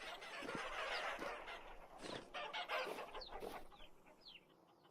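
Chickens cluck in the video game Vintage Story, a busy overlapping flock of clucks and squawks at moderate volume, continuous and without talk.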